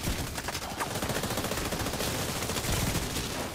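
Continuous rapid automatic gunfire in a Division 2 PvP Conflict match, a dense, loud stream of overlapping shots with no break for the whole stretch.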